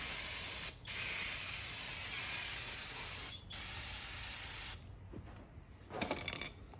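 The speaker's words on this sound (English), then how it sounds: "I'm gonna hit this little bit of brake cleaner. Yeah, just blast a bit of the old dirt" Brake cleaner sprays from a can onto the front brake parts of a 2011 Range Rover LR4, long loud close hissing bursts with brief gaps, then fading into quieter tool clicks.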